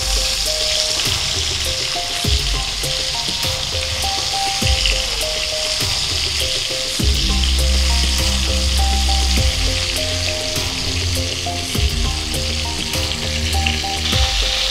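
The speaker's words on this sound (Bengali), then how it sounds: "মাছটা ভাজা হয়ে গেছে" Pieces of shol (snakehead) fish fry in hot oil in a pan, giving a continuous close sizzle and crackle that holds steady throughout with no one speaking.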